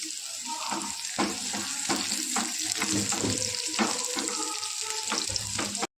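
Small shallots and curry leaves sizzle and crackle in hot oil while preparing a Kerala prawn curry, a steady close frying hiss with sharp pops and occasional stirring scrapes, ending abruptly.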